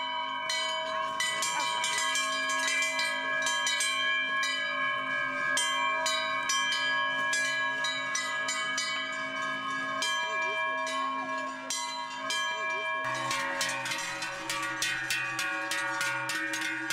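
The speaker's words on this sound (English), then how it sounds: "Their bells announce the end of summer." Many cowbells on a cattle herd coming down from alpine pasture clang and jangle together in a loud, continuous overlapping din that grows denser near the end.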